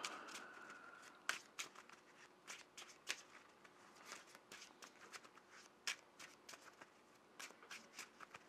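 Marvel Champions encounter cards are shuffled by hand, giving a quiet, close run of rapid riffling snaps and soft flicks with a few sharper clacks, and no talk.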